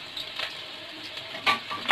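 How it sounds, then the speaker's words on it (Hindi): Onions sizzling in hot oil for chicken jalfrezi, a soft steady fry hiss with a few brief louder bursts as they are stirred. "मैं इसमें ये देखिए प्याज डाल दिए मैंने, तो इनको थोड़ा सा करेंगे हम पकाएंगे"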